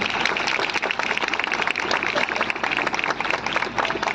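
A youth seminar audience claps loudly and continuously in thanks, a dense sustained wash of hand claps filling the whole moment with a faint murmur of voices.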